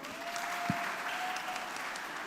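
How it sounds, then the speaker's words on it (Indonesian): University lecture audience applauding a student's question, a steady, fairly faint wash of clapping with a faint tone running underneath. "tepuk tangan buat yang nanya"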